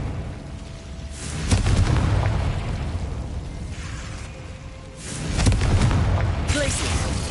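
A Confringo fire-blasting spell erupts in Hogwarts Legacy, two heavy booming bursts with rumbling tails several seconds apart, set against ongoing game ambience.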